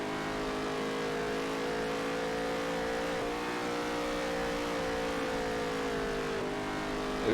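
NASCAR Heat 3 race car engine held at full throttle, a sustained buzzing drone with slight pitch wavering, steady and fairly faint.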